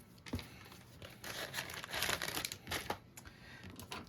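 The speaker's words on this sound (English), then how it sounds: "Then you're going to remove that release paper." Adhesive tape's release paper being peeled away during card making, a close, crinkly tearing rustle with several short bursts over a few seconds, heard alone with no talking.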